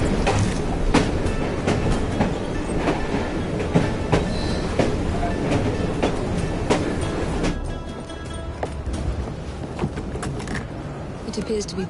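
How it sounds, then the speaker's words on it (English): Train in Assassin's Creed Syndicate rolling along with loud rhythmic clickety-clack of wheels over rail joints and a rumbling carriage drone, continuous and close throughout. "Oh well, at least we have a train now."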